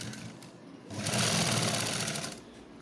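A sewing machine runs steadily at close range, stitching an extra seam along the side join of a blouse, its rapid needle chatter speeding up in the middle before slowing to a stop.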